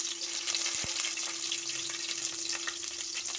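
Green chillies fry in hot oil with mustard seeds and cumin, giving a steady, close sizzle with a couple of brief utensil knocks and stirring sounds early on.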